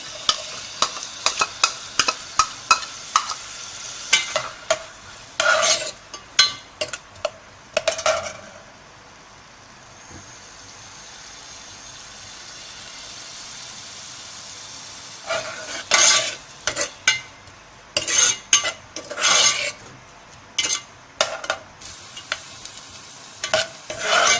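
Onions sautéing in a pan over a medium flame, with a steady frying sizzle broken by repeated scraping and clattering of a spoon stirring against the metal, fairly close and without talk.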